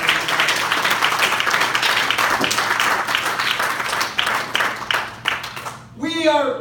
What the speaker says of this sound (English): give Him a great big hand clap